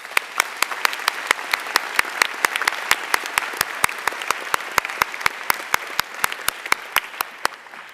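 A single pair of hands claps in a steady, even rhythm at a 2014 high school commencement, crisp and close, with a soft crowd murmur underneath.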